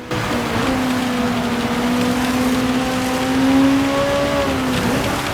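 A Ferrari race car at Dragon Trail Gardens in Gran Turismo 7 holds a loud, sustained engine note that climbs in pitch through the gears, with a brief surge and faint tire scrub, no voices.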